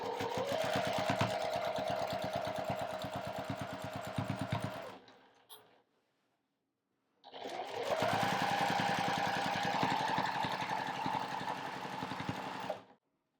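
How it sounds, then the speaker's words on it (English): A sewing machine runs steadily at high speed while straight-line quilting, a loud even mechanical whir for about five seconds, a short pause, then a second equally long run. "I am sewing a bit too fast,"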